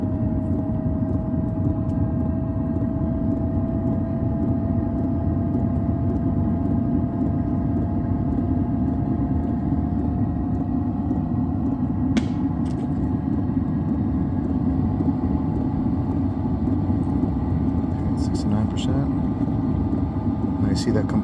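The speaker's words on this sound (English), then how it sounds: "the noise that you hear as a turbine starts kicking up, or the motor, the blower motor" An LF Bros diesel heater's blower motor spins up at start-up, giving a steady whirring hum that creeps gradually higher in pitch while someone talks over it.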